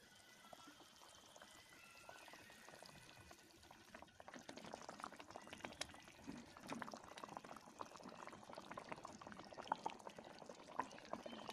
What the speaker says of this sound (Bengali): তোমরা দেখতে পাচ্ছ কেমন ফুটছে।